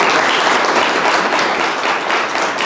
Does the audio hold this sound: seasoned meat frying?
no